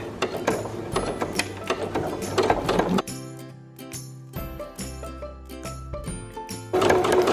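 A sewing machine stitches forward across a hem on fabric, running in steady mechanical bursts with brief pauses, fairly close and continuous over most of the stretch.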